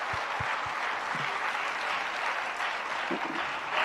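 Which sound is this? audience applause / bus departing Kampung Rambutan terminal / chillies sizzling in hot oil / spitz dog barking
audience applause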